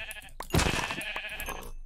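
Minecraft sheep let out a single wavering bleat, close and clear, with faint game sounds before and after.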